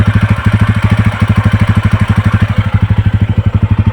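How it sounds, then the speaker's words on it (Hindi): A TVS Ronin 225cc motorcycle engine idles loudly up close, a steady rapid thumping pulse that holds evenly throughout. "और इंजन का आवाज़ आप सुन लीजिए"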